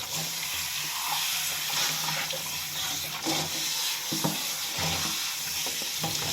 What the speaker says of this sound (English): We're going to rinse. Get that Velcro rinsed thoroughly.